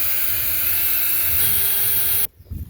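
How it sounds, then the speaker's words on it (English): A power drill bores steadily through a metal cable ferrule for a winch cable repair, a loud continuous whine that holds at one pitch, shifts slightly higher partway through, then cuts off abruptly, leaving quiet room noise. "I'm going to drill a hole right through the middle of here"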